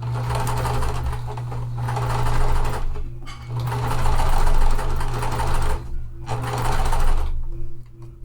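A sewing machine stitching cotton quilt pieces, a close rapid mechanical whirring in several bursts with short pauses between runs of stitches.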